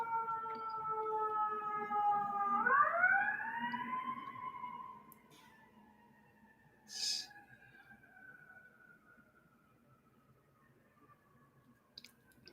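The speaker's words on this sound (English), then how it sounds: "Sorry for the ambulance that's about to go by," An ambulance siren wails loudly, its pitch sweeping upward and then sliding slowly down as it passes and fades into the distance, with a brief thump partway through.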